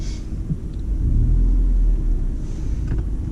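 A car creeping forward at low revs during a bay park manoeuvre, with a close, steady engine rumble that swells slightly mid-clip and stays constant, no talk.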